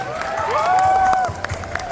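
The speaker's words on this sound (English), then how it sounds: "Round of applause for them once again." Applause and cheering rise from a crowd at a college diamond jubilee program in Shillong after a performance, with clapping under high whoops and shouts, a few sharp claps standing out near the end.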